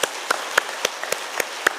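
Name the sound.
applause for church school teachers and staff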